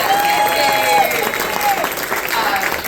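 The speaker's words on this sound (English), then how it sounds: "give a round of applause!" Crowd applause for James, the host at a VFW hall, a steady wash of clapping with some chatter mixed in, spread across the whole stretch.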